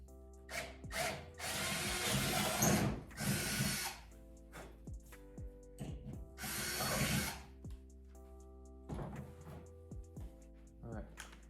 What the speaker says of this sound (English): I've got my 6mm drill bit. I'm just gonna open up these holes